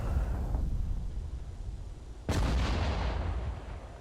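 Howitzer artillery support opens fire in Sudden Strike 4 during a WWII armored battle at Sedan: one heavy boom hits abruptly and its broad rumble decays slowly, after a quieter stretch of low battlefield noise, with no voices.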